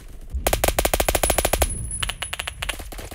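Rapid automatic gunfire in the Roblox shooter Phantom Forces, a loud close burst of evenly spaced shots, a brief pause, then a second shorter burst, no talking.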